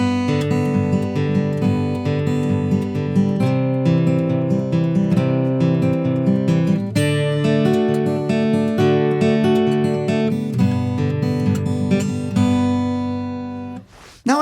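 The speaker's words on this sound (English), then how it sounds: "Now, when you're adding more notes, making it into something like a Travis pick, it's going to sound like this." Fingerstyle guitar played in a Travis-picking pattern with an alternating bass, a steady flow of plucked notes over repeating low bass notes, close and clear, sounding alone with no talk for most of the passage and a brief noise at the end.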